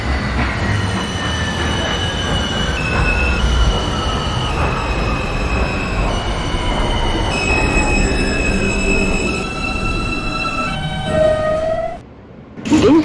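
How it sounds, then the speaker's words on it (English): An R160B subway train in the OpenBVE simulator game rumbles steadily along the rails with high metallic wheel squeals and tonal whines rising and falling, ending with a short pause. "This is a Queensbound E train."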